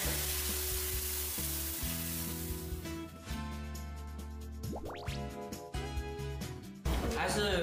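Boiling water is poured into a hot pan of pan-fried crucian carp with shrimp, scallion and ginger, giving a loud, continuous sizzle and hiss that fades and then flares again, with a voice talking over it.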